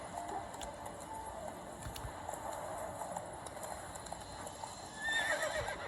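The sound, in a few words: horse Roach galloping and neighing in The Witcher 3 video game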